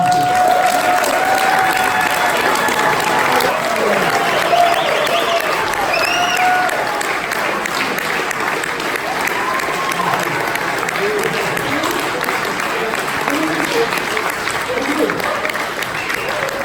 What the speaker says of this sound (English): Please give him a hand of applause.